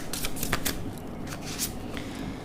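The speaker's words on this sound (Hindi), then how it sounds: "let's take some more cards Oracle deck से ही" A deck of oracle cards being shuffled close up: quick rapid riffling and flicking bursts of papery clicks over soft background noise, with no talk.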